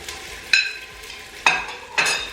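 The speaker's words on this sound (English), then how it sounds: "now I'm gonna go in with some fresh ginger and garlic" Crushed fresh ginger and garlic hit hot oil for crab curry, giving a steady frying sizzle punctuated by three sharp scrapes or stirs, close up, no voices.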